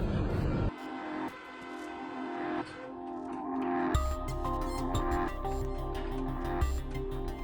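A train rolling along the tracks with its horn sounding in long sustained blasts, loud and close, growing heavier and rumbling louder toward the end.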